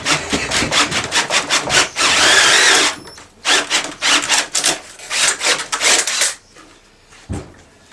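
A power drill with a hole saw grinds into timber in repeated bursts, harsh and close, with short pauses between cuts and a quiet tail at the end.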